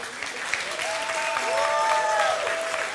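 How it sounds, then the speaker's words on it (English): Men in a church audience cheer and applaud together, a steady wash of clapping with raised shouts and whoops rising over it, loud and sustained throughout. "fellas, make some noise in this place today"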